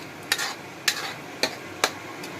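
Curry is stirred and sautéed in a pan, with four evenly spaced spatula scrapes over a soft background sizzle.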